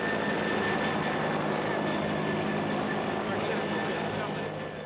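A police helicopter searching the narrow streets of Limassol, a steady broadband engine and rotor drone that stays loud and constant throughout, with no pauses.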